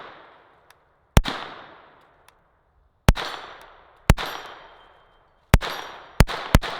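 A SIG P322 Competition .22LR pistol fires sharp, loud shots outdoors. The cracks come in uneven bursts, a couple spaced apart and then quicker pairs toward the end, each followed by a short ringing decay into quiet.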